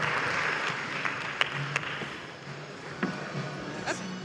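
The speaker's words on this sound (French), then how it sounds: "Merci, on peut l'applaudir" An audience applauds after a pitch at a tech startup pitch event, a moderate, steady round of clapping with a few sharper individual claps standing out, heard alone without talk.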